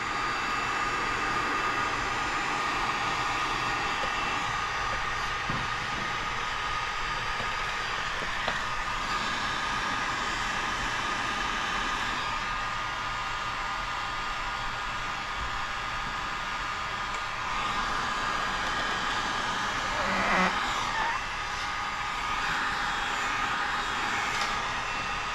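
A heat gun blows hot air steadily over paint protection film on the front bumper of a 2025 Audi RSQ8, a continuous broadband whoosh holding level for the whole stretch, close and unbroken.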